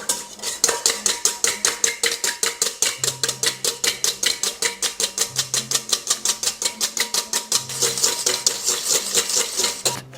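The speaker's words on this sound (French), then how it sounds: "On va battre nos œufs." Eggs and sugar are beaten by hand in a bowl, a fast, steady run of sharp whisk-on-bowl clicks and taps that continues evenly throughout, with no talk.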